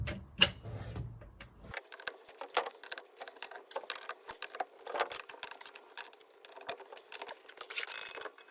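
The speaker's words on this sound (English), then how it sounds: "next we'll loosen off this wheel and take it off." A ratchet loosens the wheel nuts on a Ford Focus Mk2, heard as a fast, steady run of light mechanical clicks close by, with no talk.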